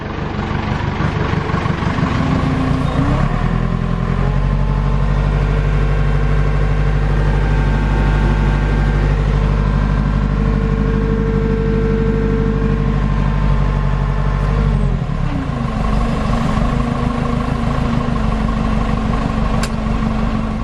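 An International tractor engine idles steadily throughout, a deep low rumble with a slight change in pitch partway through, close and continuous.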